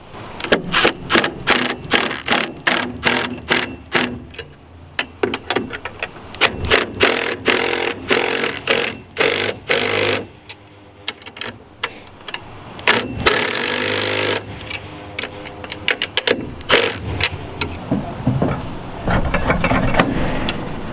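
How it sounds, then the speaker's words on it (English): An impact wrench snugs bolts on a lawn care trailer rack, firing in repeated sharp rattling bursts that crowd together almost continuously over about twenty seconds, loud and close, with no voices. "I'm just gonna go ahead and take my impact and just snug them on up after I get my wrench for the other side."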